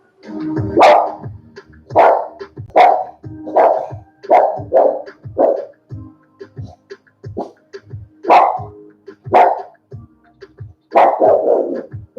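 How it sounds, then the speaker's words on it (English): A dog barks repeatedly in short, sharp bursts, fairly close and loud, with brief pauses between barks and no talking. "barking at the back"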